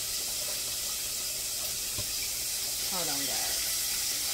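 Water runs steadily from a kitchen tap into a sink while fish is cleaned for a Southern-style fried fish and cabbage dinner, a constant broad hiss with a brief voice over it.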